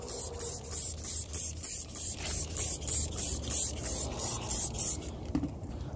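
Repeated pumping spray bursts of cleaner onto car rims, about fourteen in a steady quick rhythm, hissing close up with no talking.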